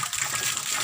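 Water driven upward by an Izumi compressor water pump, model OL07-09, gushing in a steady, fairly strong hiss-like rush for under a second.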